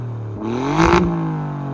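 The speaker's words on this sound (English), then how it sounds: "Now, let's hear that exhaust note." Twin-turbo exhaust of a 2024 Alfa Romeo Giulia Quadrifoglio revving once, rising sharply to a loud peak and easing back to a steady idle over under two seconds, close by with no talk.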